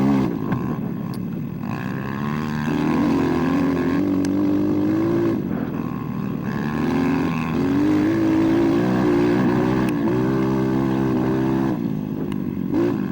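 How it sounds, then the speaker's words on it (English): An SSR 189 motocross bike lapping a purpose-built motocross track, its small engine droning loud and close with repeated rises and falls in pitch as the throttle opens and closes, steady throughout with no talk. "There's a few laps though around a purpose-built motocross track for these bikes."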